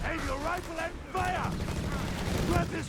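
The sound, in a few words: gunfire in video game Company of Heroes 3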